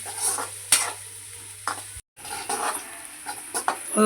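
Onions frying in a pan until browned, soft sizzling broken by intermittent stirring scrapes and spoon clinks, with a brief dropout midway.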